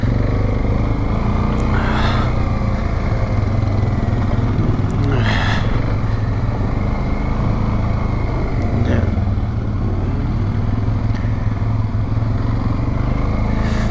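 Suzuki King Quad 750 ATVs ride over a rocky trail in the high mountains of Idaho. Loud, steady engine drone runs throughout, with occasional rattles and bumps as the machines crawl over rocks.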